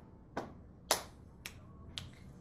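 Four sharp finger snaps in an irregular rhythm, crisp and close, alone against a quiet background.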